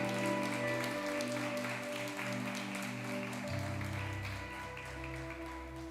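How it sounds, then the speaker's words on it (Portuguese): Church congregation applauding for the Lord during a Brazilian Portuguese evangelical service, a steady wash of clapping over sustained organ or keyboard chords, continuous and moderately distant for the whole stretch. "Que você possa dar uma forte salva de palmas ao Senhor."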